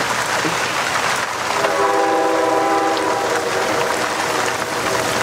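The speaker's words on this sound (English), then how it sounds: "there is something very melancholy about the sound of a train" A loud train rumbles past with heavy rail clatter while its horn sounds one sustained, multi-tone blast through the middle.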